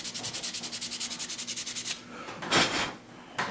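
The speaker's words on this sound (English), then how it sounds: "do a little bit of sanding to it just to make the tape break off evenly" Close, steady back-and-forth sanding strokes on a 1/350 Star Trek NX-01 Enterprise model kit, about twenty even rhythmic rubs, followed by a pause and a couple of scraping brushes as the masking tape edge is worked.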